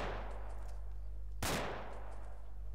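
A single sharp gunshot in a military video game cracks out once, mid-clip, over a steady low electrical hum, with no other activity around it.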